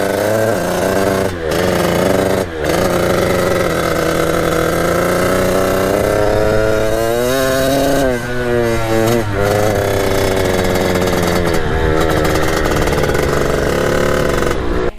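A Kawasaki KX80 big bore dirt bike engine revs loudly and close, its pitch rising and falling through repeated throttle blips over a continuous rough running note.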